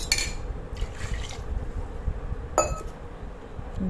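Water splashes and trickles into a metal pot for mutton curry, with a few light clinks of metal and glass, close by and fairly quiet.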